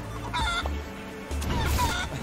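Chicken clucking in the Guacamelee! 2 video game, a loud close burst of clucks and squawks in two quick phrases over game background sound.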